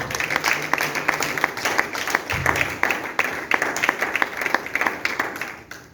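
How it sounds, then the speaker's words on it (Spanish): A church congregation applauds with loud, lively clapping that settles into a fairly steady beat for several seconds before fading at the end. "Denle un aplauso al Señor."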